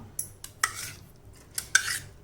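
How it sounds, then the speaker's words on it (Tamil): Soaked split moong dal and roasted rice tipped into a mixer jar, heard as a few sharp clinks and rattling scrapes of grains against metal, close and fairly quiet with no talking. "இப்போ இதை மிக்ஸி ஜாரில் சேர்த்துடலாம்"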